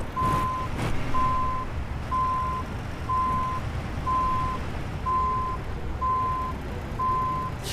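A video game truck backs up while a regular reversing alarm beeps about once per second, eight evenly spaced tones over a steady low engine rumble.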